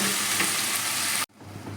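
Morla fish and radish curry cooking on a low flame in a pan, a steady close sizzle and fry that cuts off abruptly, leaving a quieter softer simmer.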